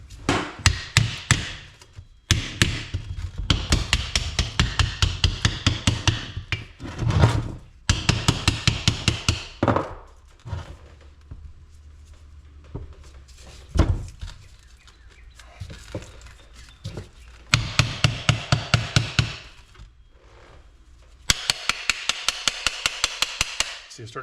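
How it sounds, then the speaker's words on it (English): A Harbor Freight hammer taps a pool pump bearing apart in bursts of rapid, sharp metallic strikes with short pauses between them, close and loud. "So I'm probably gonna have to use a little hammer on it."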